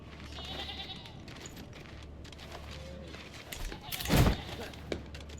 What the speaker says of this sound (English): Just sheep. Just a sheep.